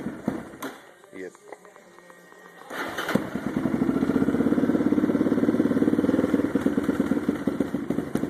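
A 2002 Yamaha 660R with carburetor problems fires up after a few knocks and settles into a loud, steady, pulsing single-cylinder idle, with people talking over the early part.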